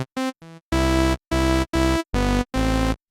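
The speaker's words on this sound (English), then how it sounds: "So this is a sawtooth wave that is built to basically exactly" A bright, buzzy unfiltered sawtooth synthesizer tone with dense harmonics, played as a series of separate notes with short gaps, loud and alone.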